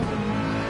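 A Nissan race car at full throttle at Monza in Gran Turismo Sport gives a brief, loud, steady engine drone.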